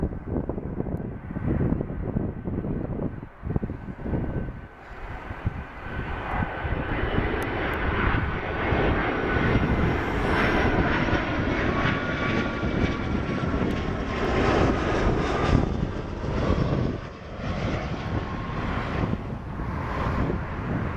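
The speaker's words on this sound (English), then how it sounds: "United Boeing 757. Arriving into Dallas. 757-200." A United Boeing 757-200 airliner arriving into Dallas roars overhead, its loud jet engine noise swelling and sustained for the whole stretch, with gusty wind buffeting the microphone early on.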